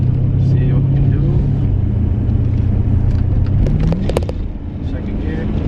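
A Dodge Challenger or Charger Scat Pack pulls away hard, its loud, deep engine rumble droning steadily up close from inside the car while people talk over it.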